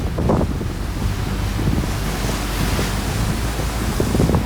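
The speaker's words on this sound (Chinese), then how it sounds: "不过这里的水声真的很治愈" Steady roar of surf and gusting wind buffeting the microphone on a beach in Barcelona, continuous and loud with no voices.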